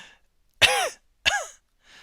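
Two sharp, close coughs with a short gap between them, alone against silence.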